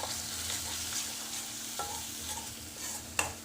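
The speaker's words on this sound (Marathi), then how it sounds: "थोडं जिरं पावडर आणि थोडा काळा मसाला, यांना सर्वांना परतून घेऊया" Cumin powder and black masala sautéing in a pan for cabbage and pea sabzi, a soft low sizzle with a few spatula scrapes and one sharper clink near the end.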